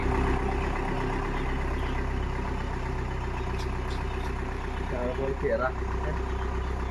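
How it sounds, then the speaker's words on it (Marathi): A car in poor condition drives into a parking lot, its engine giving a steady, loud low rumble throughout, with a brief rising tone near the end. "गाडी जात आहे सध्या पार्किंग लॉट मध्ये."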